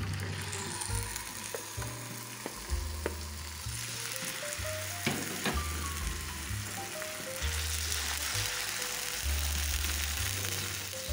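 Diced chicken breast fries in oil in a large pan, a steady, moderately quiet sizzle with occasional crackles, running under light background music.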